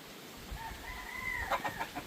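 Chickens in a Konkan village yard near Guhagar, clucking in short irregular bursts with a drawn-out crowing call, fairly close and clear over faint background noise.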